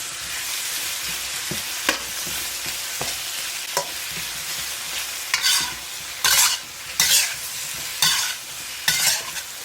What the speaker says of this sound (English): So after you added the meat, you can turn the heat up to high